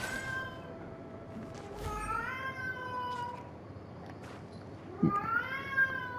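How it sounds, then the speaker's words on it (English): A cat meows several times nearby, drawn-out and whiny calls with pauses between, against a quiet background hum. "my cat is meowing."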